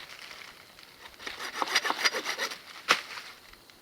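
A hand saw cutting through the rotten end of a dead tree log outdoors, quiet at first then a run of rough rhythmic rasping strokes building up, ending in a sharp crack near the end.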